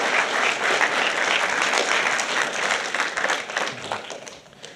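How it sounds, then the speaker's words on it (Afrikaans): A church congregation bursts into sustained applause, a dense, even wash of many hands clapping that holds steady and then tapers off near the end, with no talk over it. "kom ons gee die Here 'n lekker hande klap"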